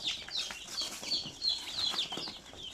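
Many chicks from a large purchased batch on a Basilan farm, peeping constantly in a dense high chorus with occasional wing flutters, close by and with no talk.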